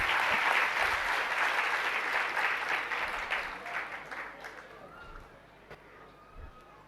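An audience at a Jain religious sermon breaks into loud, dense applause that holds for several seconds, then gradually thins and dies away into scattered claps and room noise.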